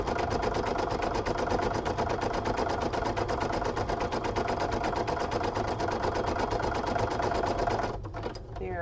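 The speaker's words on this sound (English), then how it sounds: "your machine can stitch right along with mine" An embroidery machine stitches a Valentine card in the hoop with a steady, fast mechanical whir and rhythmic needle chatter that runs unbroken before stopping near the end.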